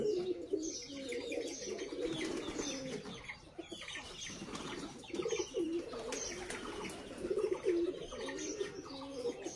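Soft, repeated cooing from several pigeons at their house in a Bangladeshi village overlaps in a gentle, continuous murmur, with faint chirps and a flutter of wings now and then.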